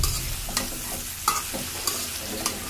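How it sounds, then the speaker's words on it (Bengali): Stir-frying with coriander and turmeric powder added, likely aubergine with dried loitta fish in the pan, a continuous hiss of frying under sharp, repeated spatula scrapes and taps. "আমি একটু ধনিয়া গুঁড়া আর একটু হলুদের গুঁড়া দিয়ে এটাকে আরও একটু নেড়ে চেড়ে ভেজে নেব"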